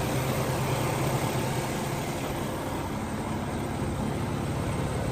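A 2017 Kenworth T680 truck's diesel engine idles in a steady, continuous rumble, close and fairly loud, unchanging throughout with no voices.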